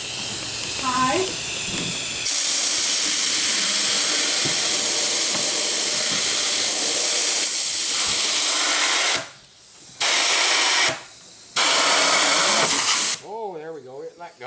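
Compressed air hisses loudly under a gel coat quarter-scale RC body in its mold, coming in long steady blasts broken by short pauses, with a brief spoken word at the start and talking near the end.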